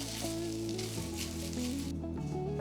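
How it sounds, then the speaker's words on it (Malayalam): Grated coconut sizzles and fries steadily in a pan while being roasted to golden brown for kootu curry, a close continuous crackle with a faint stirring scrape. "ഇത് ഗോൾഡൻ ബ്രൗൺ കളർ ആകുന്ന വരെ വറക്കണം."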